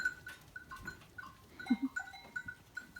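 Goats on a village farm in Köreke, Gördes, give several short, faint bleats scattered irregularly over quiet farmyard background.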